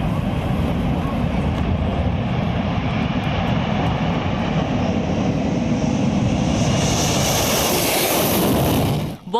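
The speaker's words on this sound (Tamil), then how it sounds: "இந்நிலையில் இந்த ஓடுபாதையில் போர் விமானத்தை அவசரமாக தரையிறக்கி சோதனை செய்யப்பட்டது." Fighter jet doing an emergency landing and takeoff test on a highway runway, a loud, continuous jet engine roar that builds into a rising high-pitched whine near the end before cutting off.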